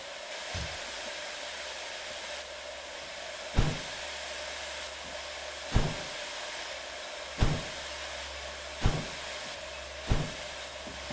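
Steady loud hiss from a steam locomotive in the Derail Valley train simulator as its brake is released, with a series of sharp thumps at irregular intervals over the continuous rush of air.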